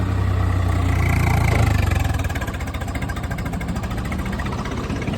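A tractor engine runs loud and close, its low rumble swelling as the throttle is opened for about two seconds, then settling back into a steady, pulsing idle.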